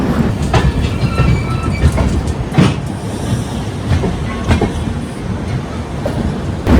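The Pondicherry Howrah SF Express rumbles along the rails with a loud, steady roar and rhythmic clickety-clack of wheels over track joints, heard from close inside the moving train.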